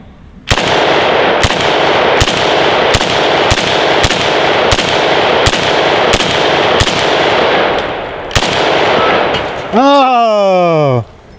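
An AK rifle fires about a dozen sharp shots in a steady cadence into body armor on a dummy. The reports are loud and close, and a short electronic or ringing sweep follows the last shot.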